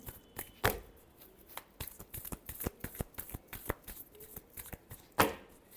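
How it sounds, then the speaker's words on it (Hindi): Tarot cards being shuffled by hand in a rapid run of crisp riffling snaps and taps, with two louder slaps standing out, close and alone without talk. "last shuffle"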